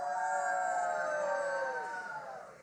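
Children in a Christmas play imitate coyote howls, a sustained wavering chorus of voices that rises and then slides downward, fading slightly over a couple of seconds.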